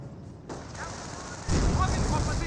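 Rifle fire from a Company of Heroes battle rattles in bursts against a squad, with a louder volley swelling midway and continuing under a steady background of distant combat noise.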